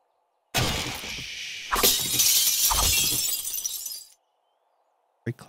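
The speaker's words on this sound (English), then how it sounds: "Break glass quietly." Glass shattering in 7 Days to Die: a loud, close crash, then a second smash that trails into a rattling cascade of falling shards for a couple of seconds, followed by a brief knock.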